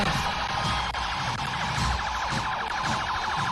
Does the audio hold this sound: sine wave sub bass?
no